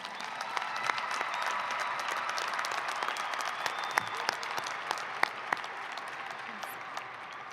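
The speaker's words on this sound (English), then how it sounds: "Please applaud these students for their academic honors." Steady, distant applause from a large crowd honors graduating high school students at a commencement ceremony, with soft continuous clapping and occasional sharper individual claps.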